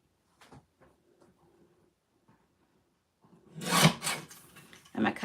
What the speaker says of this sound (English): So I'm going to grab my little cutter